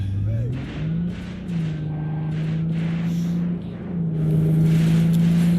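A car engine drones steadily in Cyberpunk 2077, a sustained low hum that rises and falls as the car drives, with brief bursts of game noise layered on top.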